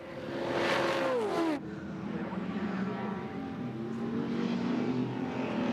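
Group A race cars at Bathurst's Conrod Straight in 1984 roar past flat out, one loud exhaust note sweeping down in pitch as it passes, followed by a steady engine drone from more cars.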